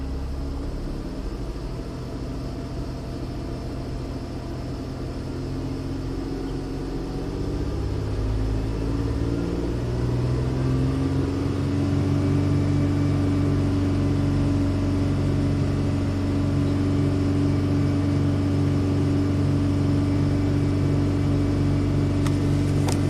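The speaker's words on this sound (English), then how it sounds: "So I'm just going to hold the RPMs up a little bit." Nissan Xterra engine idling, then brought up and held at a steady raised RPM, a close, constant mid-pitched hum and drone with no speech over it.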